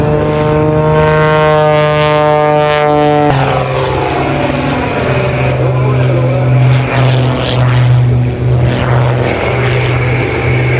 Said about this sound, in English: Showing you the power coming from this 400 horsepower engine.